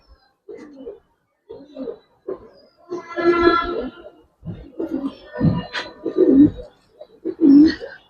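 Pigeons coo in short, low, throaty bursts close by, several separate calls spaced across a few seconds, with quiet gaps between them.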